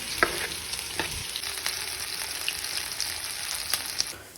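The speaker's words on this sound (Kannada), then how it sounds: "ಪ್ರಾನ್ಸ್ ಆ್ಯಡ್ ಮಾಡಿ ಸುಮ್ಮನೆ ಹಾಗೆ ಫ್ರೈ ಮಾಡ್ಕೊಳ್ಳೋಣ" Prawns fry in a pan with a steady close sizzle, punctuated by a few sharp clinks and scrapes of a spatula as they are stirred.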